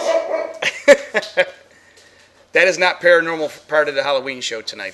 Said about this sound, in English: That is just the dog freaking out.